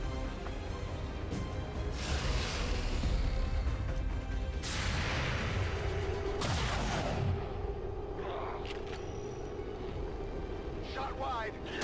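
Gunfire bursts in the turn-based strategy game XCOM 2: War of the Chosen, several loud blasts with rumbling echoes spread across the scene, mixed with game voices talking between shots.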